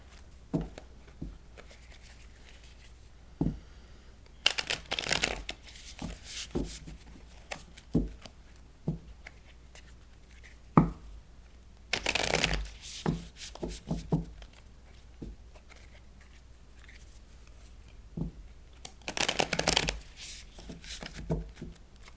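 Tarot cards shuffled by hand in several separate bursts of riffling and sliding, close and moderately loud, with quiet pauses between the bursts and no talking.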